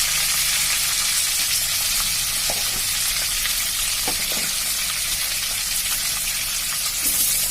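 Panch phoron spices and a bay leaf sizzle in hot oil, a loud, constant hiss dotted with small crackles and pops, heard up close with no voices.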